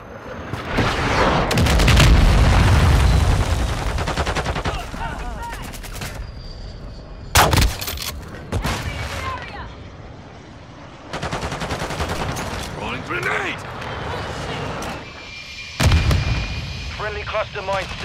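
Rapid video game gunfire with heavy booming blasts and machine-gun bursts, loud and dense at the start, then recurring in sharp bursts separated by quieter stretches, with radio-style voices talking over the action.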